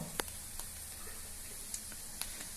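Mustard oil sizzling and foaming in a pan, a soft steady hiss with a few faint pops and crackles, quiet and close, no talking.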